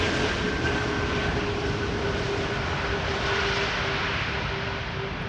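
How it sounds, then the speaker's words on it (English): Airliner landing with idle reverse thrust, a steady loud roar of jet engines with a faint whine running throughout, continuous and even with no break and no voices. "Another idle reverse landing, but still, what a machine."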